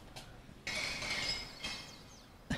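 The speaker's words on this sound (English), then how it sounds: "You can hear the glass." Glass offerings thrown into a fire in Hawaii make bright clinking and rustling crashes, two main bursts a second apart, fairly near over quiet background.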